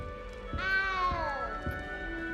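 A single drawn-out, wavering meow from a cat in a video game, fairly clear and close, with faint background ambience and no talking.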